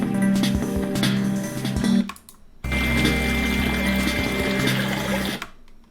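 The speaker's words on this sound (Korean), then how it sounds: "음악 소리와 물소리가 둘 다 잘 들리죠?" A water sound effect plays back from an editing timeline, a steady rushing flow mixed with music. It cuts out briefly, then resumes, and stops abruptly at the end.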